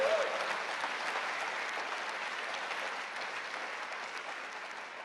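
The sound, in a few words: applause for the ministerial team at Labour conference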